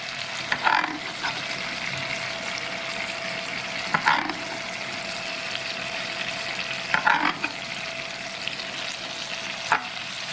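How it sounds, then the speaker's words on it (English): A steak sizzles and fries steadily in a pan, a loud continuous crackle close by, with a few brief bursts of louder spitting and scraping as it is moved, and no talk. "I'll get on with cooking my steak"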